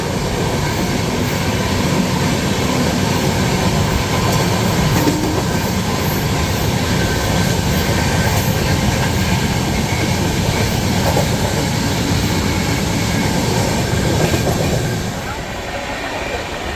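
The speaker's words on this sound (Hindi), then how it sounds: "पुष्पक एक्सप्रेस" Pushpak Express train running on rails, a loud, steady rumble with rhythmic wheel clatter that carries through without a break and eases slightly near the end.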